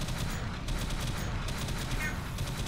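Rapid, continuous gunfire from the squad shooters in the Alien Swarm video game, a dense steady barrage with no gaps, loud and close throughout.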